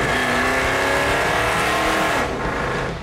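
A 1971 Dodge Demon with a 340 Six Pack V8 roars loudly and steadily up close, a dense full-throated engine drone that eases slightly near the end, with no talking.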